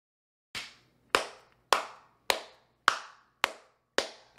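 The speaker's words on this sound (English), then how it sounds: "I clapped." Seven sharp, evenly spaced hand claps sound close and loud in an otherwise quiet room, each one followed by a short decay.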